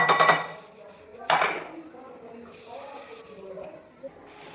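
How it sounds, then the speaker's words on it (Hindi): Spoon scraping and clinking in a bowl as yogurt, salt, chili and spice pastes are stirred into biryani batter, a few sharp clinks then softer mixing, with someone talking over it. "ये सारे पेस्ट इसमें डाल के अच्छी तरह से मिक्स कर लूँगी।"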